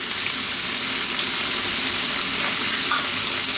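Fresh chopped garlic and ginger sizzle steadily in hot oil for a beef bok choy stir fry, a constant close frying hiss with no talking.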